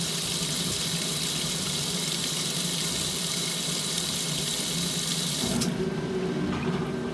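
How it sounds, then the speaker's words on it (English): A washing machine fills with water in a steady, loud rushing flow that cuts off abruptly near the end, leaving a quieter mechanical hum. "This one will be done filling in just a minute too, hopefully."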